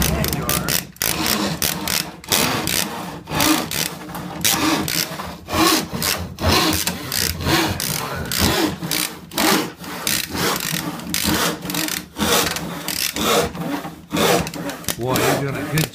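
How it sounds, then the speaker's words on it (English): Rhythmic back-and-forth rasping of a hand saw biting through wood, steady strokes close by, with voices talking intermittently over it. "keep sawing, Obi."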